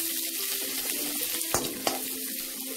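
Whole spices and cumin sizzling in hot oil in a kadai, a steady hiss and crackle with two sharp pops near the end.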